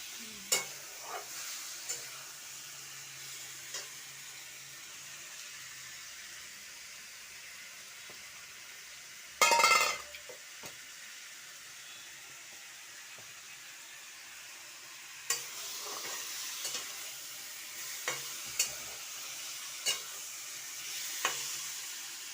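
Eggs frying in a pan, a faint steady sizzle with scattered scrapes and taps of stirring and one loud burst of hissing midway, without talk.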